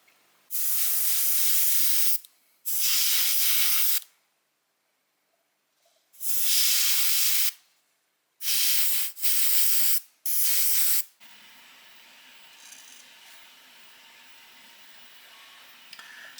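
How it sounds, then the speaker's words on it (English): A spray can coats an LED strip for a 1/10 scale RC car with chrome paint in six loud, close hissing bursts of one to two seconds each, separated by short silences, followed by faint room noise. "Now I'm going to spray it with this chrome color."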